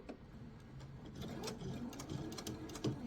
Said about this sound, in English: we're going to sew all the way down to the next corner